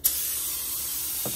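A paint spray gun hisses steadily onto a Tesla Model 3 during body work, a loud continuous airy spray that starts abruptly and holds for the whole moment.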